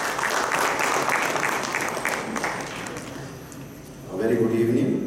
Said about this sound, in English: put your hands together and welcome him with a huge round of applause